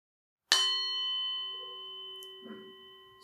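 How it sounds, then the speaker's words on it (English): A meditation bell struck once during a guided meditation session, ringing out with a bright attack and a long, pure sustained tone that slowly fades, quiet and alone apart from a faint soft sound near the end. "So now on the sound of the bell,"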